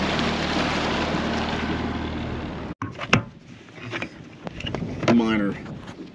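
A quiet 4-stroke outboard motor drones steadily on a small boat, then drops away as a person talks over the lower engine rumble and splashing.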